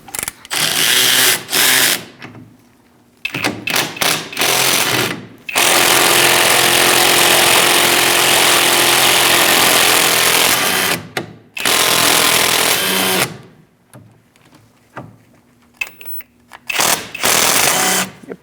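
A power tool fitted with a 7mm Allen socket whirs loudly and close while backing out the rear caliper slide pins on a 2000-2006 Mini Cooper, in several bursts of differing length separated by short pauses, one long sustained run in the middle.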